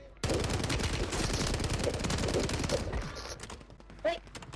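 STG44 assault rifle fires in Warzone on Rebirth Island, a loud, sustained rapid burst of automatic shots lasting a few seconds before breaking off into scattered quieter sounds and a brief voice.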